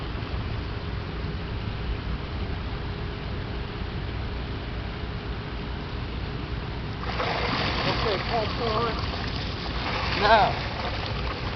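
Water from a pump backflushes through a UV pond filter, a steady wash of splashing and rushing flow that swells louder partway through under a brief spoken word.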